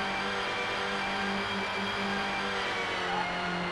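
A Toyota Supra's engine in the N64 racing game GT64 Championship Edition drones as a steady synthetic hum with fixed buzzy tones, holding a constant pitch throughout with no talk.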